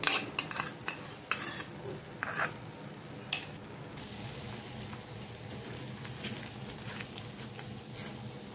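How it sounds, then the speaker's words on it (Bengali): Sour yogurt going into a frying masala for a restaurant-style katla fish rezala: a few sharp spoon-on-pan clinks early on, then a quiet, even sizzle with light stirring scrapes. "এই যে টক দইটা কাটাই রাখছি, দিয়ে দেবো টক দইটা।"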